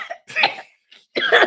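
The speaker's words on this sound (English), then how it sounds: "I'm trying not to cough in the mic." Two to three close, harsh coughs in quick succession from a person near a microphone, loud and abrupt with brief silence between them.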